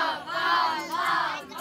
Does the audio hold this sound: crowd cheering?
yes